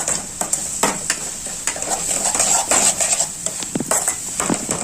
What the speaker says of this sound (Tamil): நல்லா எண்ணெயில் வதக்கணும்.